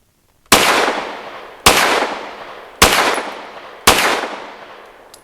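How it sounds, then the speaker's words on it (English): Four evenly spaced, sharp pistol shots firing soft Fiocchi ammunition with a deliberately limp wrist, each crack loud and close with a short decaying tail, and no speech. "I've got 4 rounds of Fiocchi, so soft ammo in here, and I'm going to limp wrist, see if we have a problem."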